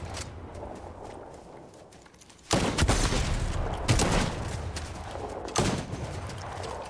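Loud, sharp sniper rifle shots in the Fortnite summer update, the first cracking in around mid-clip with another a few seconds later. Gunfire-like bursts sit over a steady game background with no talk.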